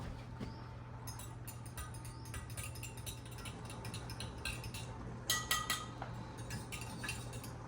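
A spoon stirring yeast into a cup of 110-degree water, with quiet, repeated clinks and scrapes against the container, soft and close, building to a few brisker taps near the end.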